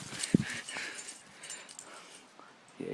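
A small dog gives a brief, sharp whimper or yip early on, followed by faint shuffling and a quiet background.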